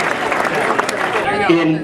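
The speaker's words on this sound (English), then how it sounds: "So please give yourselves a big round of applause." Members of Meadowbrook Country Club applaud at their centennial celebration, a brief burst of crowd clapping that fades into a speaking voice near the end.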